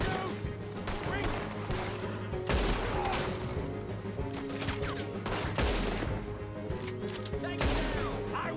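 Gunfire in the open-world western video game Red Dead Redemption 2, with repeated loud shot bursts and sharp cracks over a steady game score, and a voice speaking now and then amid the shooting.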